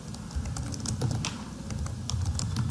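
Light, rapid typing on a computer keyboard, scattered clicks over a steady background hum, no talking.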